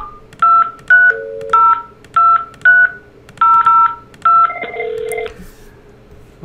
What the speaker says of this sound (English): HQ side, I'm going to dial in.